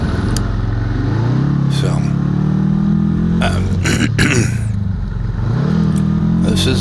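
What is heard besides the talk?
antique Honda motorcycle riding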